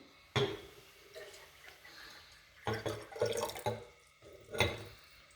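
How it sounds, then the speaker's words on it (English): Water splashing into a container in a few short bursts, close and fairly quiet, with brief pauses between pours. "now I'm going to put this water in"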